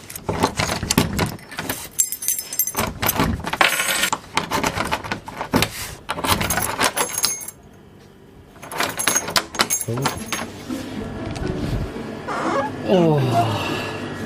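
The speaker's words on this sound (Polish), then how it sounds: "znalazłem trochę klucze, może które będą działać" Keys jangle and clink in repeated bursts inside a small convenience store at night, loud and close, broken by a brief quiet gap, with a person talking over parts of it.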